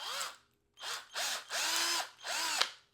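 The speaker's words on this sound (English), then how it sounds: "first we're going to quickly drill, and I advise, you should drill your stuff much safer than I'm doing right now" Power drill boring into soft wood in four bursts, each spinning up, holding a steady whine and winding down, with short pauses between; close and loud, no talk.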